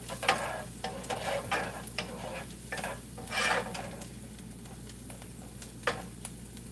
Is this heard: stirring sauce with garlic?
yes